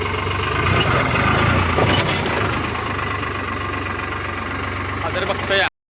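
A tractor engine idles and runs with a steady mid-pitched rumble and faint knocking vibration close by, holding even for about six seconds before cutting off abruptly.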